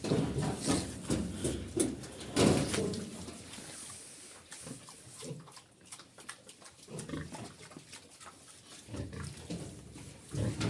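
Piglets grunt and snuffle close by over a steady feeding clatter, with several louder grunting bursts scattered through.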